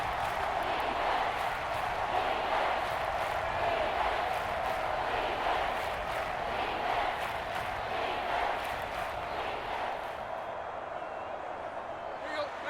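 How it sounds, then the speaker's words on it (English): A stadium crowd in Madden NFL 23 roars steadily as a big third down approaches, with broad cheering holding at an even level under a commentator's voice. "the crowd getting into it as we come up on a big third down"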